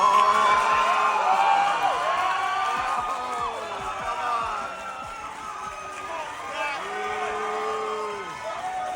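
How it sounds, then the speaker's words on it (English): A crowd at a political event jeers and boos, a dense mass of overlapping shouts and drawn-out boos at moderate distance, loudest at first and then settling into sustained restless noise. "the crowd exploded with boos and jeers"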